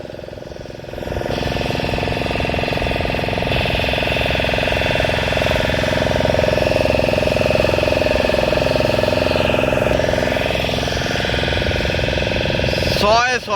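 A motor boat's engine drones steadily and loudly throughout a ride toward a river estuary near Chandipur, a continuous mid-pitched hum with no breaks.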